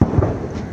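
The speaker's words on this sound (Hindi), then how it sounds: "ये देखिए, तोपों की सलामी, ये एक सम्मान है एक राष्ट्राध्यक्ष को अपने मजबूत पड़ोसी को।" A cannon gun salute fired for PM Modi during a guard of honour in Sri Lanka, with a loud booming blast at the start and a second at about 0.2 seconds, over a rumbling, echoing tail.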